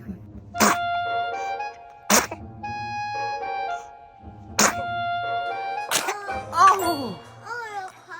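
A baby sneezes several times in sharp bursts, with adults murmuring and talking softly between the sneezes, close and fairly loud.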